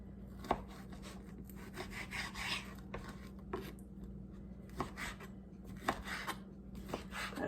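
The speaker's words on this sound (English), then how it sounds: "I'm just going to cut this up in cubes" A knife cuts sausage or ham into cubes for potato soup, with repeated soft chopping and rubbing strokes against a board, fairly close, with no talking.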